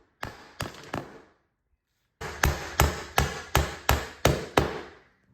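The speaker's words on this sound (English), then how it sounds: "we have to put a nail in that hole right there" Hammer strikes driving a nail into a hinge jig set against a wooden door jamb: three sharp blows, a short pause, then seven evenly spaced loud hits, close and with no other sound.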